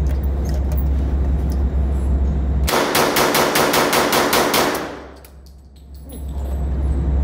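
Tommy gun firing a full-auto burst: a rapid string of about a dozen loud sharp shots lasting around two seconds, framed by steady outdoor background rumble before and after.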